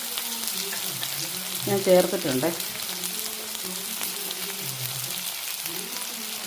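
Chopped shallots sizzling in hot oil with mustard seeds and two dried red chillies, a low steady frying hiss beneath a short spoken phrase and a faint clink.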